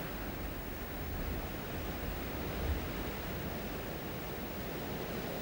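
Cascades and streams pouring into the upper Tagus river in a wooded valley, a steady, even rush of falling and flowing water at a distance, faint and unbroken.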